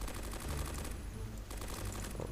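Dense, continuous gunfire from the Roblox military shooter Blackhawk Rescue Mission 5, with rapid automatic bursts that overlap into a steady fusillade, loud and close throughout with no talk.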